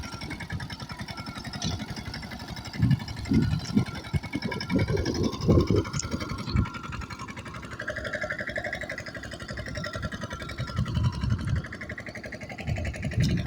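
A small tractor engine chugs at a steady, rhythmic pace while sowing a farm field, sounding moderately close, with a few louder knocks and bumps along the way.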